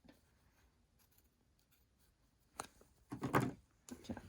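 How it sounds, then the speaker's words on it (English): A few sharp scissor snips through fabric at a shirt collar, close by and fairly quiet, clustered toward the end after a stretch of near silence. "I'm just snipping this to allow some extra movement."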